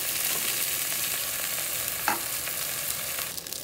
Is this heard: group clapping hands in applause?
no